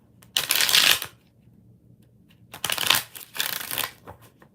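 Tarot cards being shuffled in two bursts of crisp riffling with a short pause between, close and clear with no talk.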